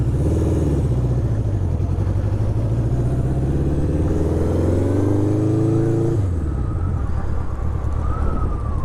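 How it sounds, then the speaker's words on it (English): A 1970 Honda CB750 K0 motorcycle engine hums steadily up close while riding, its pitch rising as it accelerates through the gears, then dropping back after a shift. "this was the smoothest motorcycle you could get"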